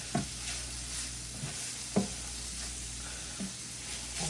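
Flour being stirred into a hot pan of fat for biscuit gravy, soft hissing sizzle throughout with four distinct spoon scrapes spaced unevenly, close and fairly quiet.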